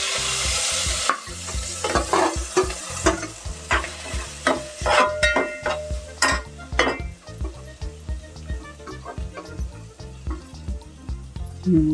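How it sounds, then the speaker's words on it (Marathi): Grated coconut being stirred in a pan with a spoon for Maharashtrian coconut rice (narali bhat), lemon juice already added: close, steady scraping and clattering strokes with faint sizzle underneath, no voices. "आता ढवळून घेऊया. असं ढवळून घ्यायचं."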